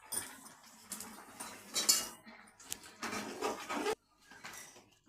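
A fish head curry with potato, pumpkin and drumstick vegetables is stirred in a metal pot, a spoon scraping and clinking against the sides in uneven bursts, close and fairly quiet, with a short pause near the end.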